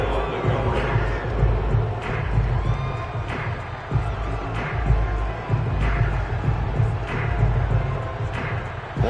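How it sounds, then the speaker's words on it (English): A football stadium crowd cheers and roars before a big third down, a sustained wash of shouting and whoops, with an announcer talking over the noise. "The crowd getting into it as we come up on a big 3rd down."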